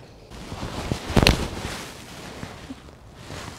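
A golf club strikes a ball with one sharp, loud crack near the middle, set against quiet outdoor ambience on a practice range.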